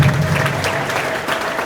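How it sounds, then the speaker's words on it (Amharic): A church congregation breaks into dense, continuous applause, a steady wash of many hands clapping at once, loud and close, with no gaps. "ለሁሉም አጨብጭቡላቸው።"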